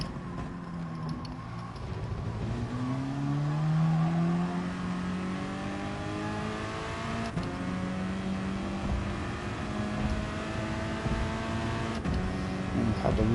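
A race car engine in Gran Turismo Sport revs and climbs through the gears, with a loud, sustained whine rising and falling repeatedly and sharp shift breaks, under a faint voice.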